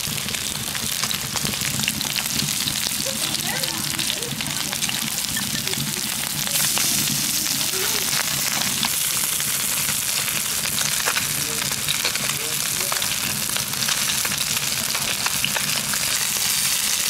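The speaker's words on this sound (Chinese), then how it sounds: "把鱼上锅煎一下。" Carp coated in egg and starch pan-fries in a wok, giving a loud, dense, continuous sizzle like heavy rain that holds steady throughout.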